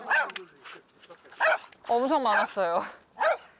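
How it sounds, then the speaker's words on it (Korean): An aggressive dog on a walk barks and yelps at the crew following it, sharp, high cries mixed in with a person talking nearby. "그런데 뒤따르던 제작진을 향해 짖기 시작하는 장군이."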